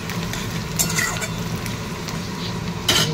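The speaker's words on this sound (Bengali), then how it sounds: "এই যে আলু পেঁয়াজ লঙ্কা ভাজা ভাজা হয়ে গেছে" Potatoes, onions and chilies fry in a pan for a home-style chow mein, giving a steady close sizzle and crackle with brief louder bursts of stirring near the start and end.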